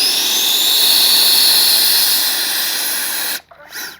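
A Freewing 80mm F-22 RC jet's electric ducted-fan motor whines loud and steady up close with a high, hissing tone, then cuts off abruptly near the end, leaving only faint handling noise.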